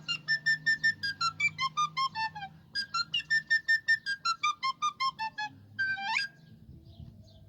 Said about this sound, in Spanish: Se llama flautín o flauta piccolo.